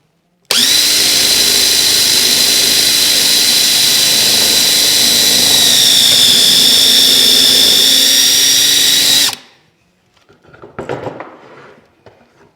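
A power drill held in a drill guide bores a straight hole through wood for a table saw infeed extension, a steady loud whine lasting about nine seconds that stops abruptly, followed by faint handling clatter.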